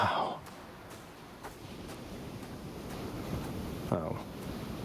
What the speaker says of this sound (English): I never grew accustomed to the air up here. It gusts senselessly whichever way it pleases.